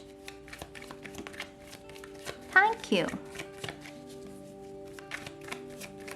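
Tarot cards are shuffled with rapid light riffling and taps, a brief flurry in the middle, while a voice speaks over a steady background hum.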